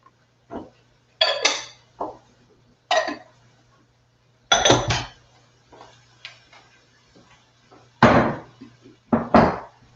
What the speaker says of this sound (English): I'm going to add my Brussels sprouts now, which I I've already cleaned. I'm going to add it to my onions.